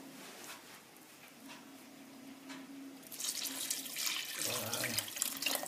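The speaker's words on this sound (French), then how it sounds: "Là, j'ai additionné l'eau." Water runs from a tap into a cooking pot for a chicken colombo with potatoes, starting as a faint trickle and then swelling into a louder rushing pour that stays close for the last few seconds.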